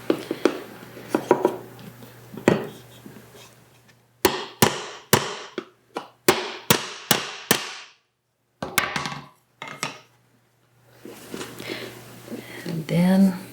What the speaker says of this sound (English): my last taps, I'm going to use my wood